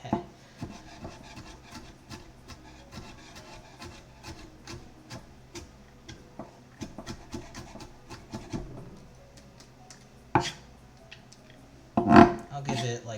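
A knife chopping vegetables for togarashi shrimp and vegetable fried rice on a cutting board, heard as a fast, close series of sharp taps with a few louder knocks near the end.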